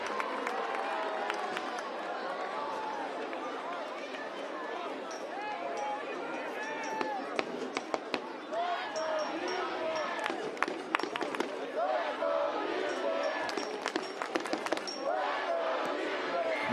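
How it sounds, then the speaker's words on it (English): A stadium crowd at the Monterey Bay F.C. versus Memphis 901 FC soccer match hums and chants at a distance, with sharp percussive hits and cheers rising through it, while a commentator talks over the continuous crowd noise. "Crowd trying to get into this."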